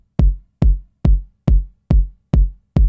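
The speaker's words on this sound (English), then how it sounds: "Usually I like layering 2 to 3 sounds to make a nice kick drum." Layered kick drum programmed on an Elektron Syntakt, punchy short thumps with a faint noise layer on top, striking seven times at a steady, even tempo, loud and dry with nothing else playing.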